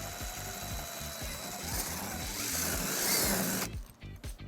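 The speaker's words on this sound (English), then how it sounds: "using a 3/16 drill bit, we're going to drill our first hole" A power drill fitted with a 3/16 bit bores a hole through the bumper of a 2019 Subaru Impreza hatchback, a close whirring grind with a rising pitch that rattles faintly in rhythm, then cuts off abruptly.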